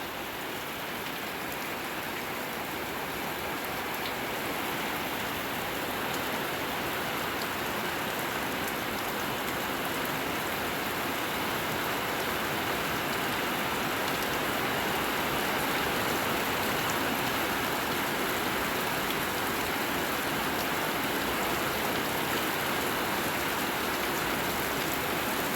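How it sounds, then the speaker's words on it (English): Steady rain falling and pattering on surfaces, a constant hiss of dense drops with no voices, even and unbroken from start to finish. "I do like the sound of rain."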